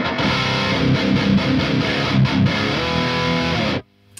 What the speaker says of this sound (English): whenever I put a tube screamer on in front of a high gain amplifier, it's too much